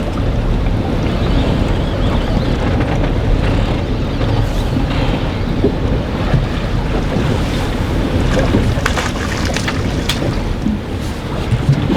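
Heavy wind roars over open sea aboard a fishing boat out for tautog off Rhode Island, a steady loud rush with waves slapping the hull and gusts buffeting the microphone throughout.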